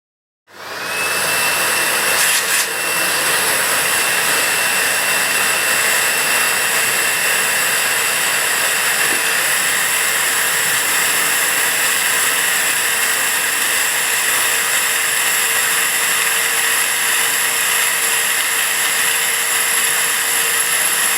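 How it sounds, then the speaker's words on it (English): A repaired scrapyard-salvaged vacuum cleaner switches on and runs with a loud, steady whine and roar that holds constant for the rest of the clip. "after this rather simple repair, the vacuum cleaner works just fine"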